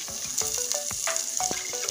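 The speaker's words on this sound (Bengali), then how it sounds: "পেঁয়াজটাও আমি লাল করে ভেজে নেব।" Chopped onion and chili fry in hot oil with garlic, giving a continuous close sizzling hiss punctuated by quick scraping stirs in the pan.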